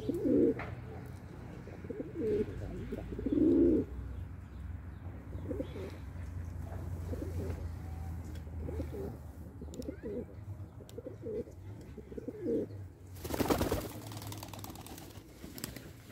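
Arabian crested pigeons coo in soft, repeated bursts near the start, with quieter coos continuing over a low background hum, then a sudden loud broadband rustle or flutter near the end.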